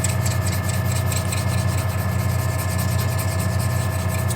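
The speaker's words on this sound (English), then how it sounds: "grab a hone and remove the remnants of that" Steady, continuous abrasive rubbing as a hone works the bevel of a woodworking scraper, close and loud with an even, unbroken stroke texture and no talking.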